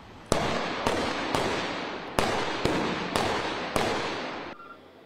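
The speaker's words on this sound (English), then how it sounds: "what you hear is the flashbangs and tear gas that the SWAT team and police had to use to enter that apartment" Flashbangs and tear gas deployed by a police SWAT team entering an apartment during a standoff: six sharp loud bangs at irregular intervals, each followed by a long hissing roar that carries into the next, recorded from a distance.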